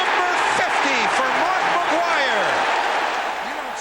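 Baseball stadium crowd cheering and applauding Mark McGwire's 50th home run of 1998, a dense, steady roar of clapping and yelling that holds loud throughout, with a voice calling out above it.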